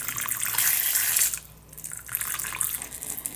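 Water pours into the enclosure of a Hapalopus albopilosum tarantula in a bright, close splashing stream that pauses briefly midway, then resumes.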